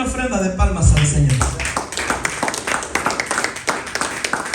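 Congregation at a church service clapping as an offering to the Lord, a dense burst of rhythmic handclaps that follows a preacher's voice and continues steadily.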